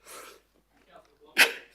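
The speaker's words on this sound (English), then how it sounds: "I'm sneezing." A single sharp sneeze bursts out at a council governing body meeting, preceded by a brief breathy intake and faint murmuring in a quiet room.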